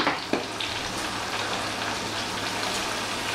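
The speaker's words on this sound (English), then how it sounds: "They're frying up nicely." Calamari and shrimp frying in a pan, a steady dense sizzle and crackle like light rain, close and continuous with a small clack near the start.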